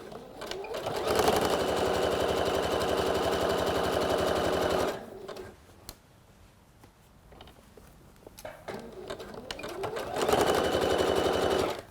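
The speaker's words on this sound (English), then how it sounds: "I'm now sewing the inside leg seam, so I'm going to go all the way up one side and then all the way down the other side." Sewing machine stitching the inside leg seam of a pair of trousers, running in long, fast, even bursts with a quieter pause between the runs.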